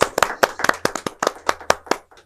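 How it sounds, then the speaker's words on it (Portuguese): Sparse, distinct handclaps from an audience at a talk, about a dozen sharp claps in an uneven rhythm, close and fairly loud, trailing off into quiet at the end. "Uma salva de palmas para vocês."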